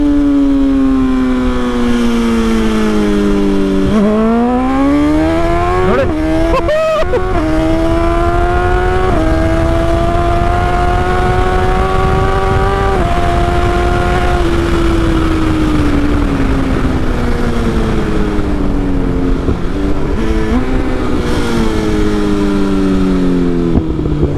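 A BMW XR sport motorcycle with an inline-four engine revs loudly and alone, its exhaust tone climbing and falling through several sweeping throttle blips with a steady high-pitched engine whine close to the listener.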